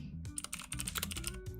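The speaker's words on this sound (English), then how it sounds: "I'm trying to find the video of me typing" Rapid typing on a computer keyboard, a dense run of light clicking keystrokes with brief pauses, close and fairly quiet with no voices.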